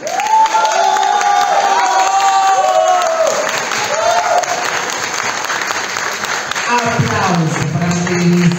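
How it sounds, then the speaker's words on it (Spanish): A studio audience at a Mo Talent talent-show contest breaks into loud, sustained applause and cheering with whoops, continuous from start to finish, while a host's voice carries over the crowd. "vamos por aplauso para nuestro Javi Camaleónico"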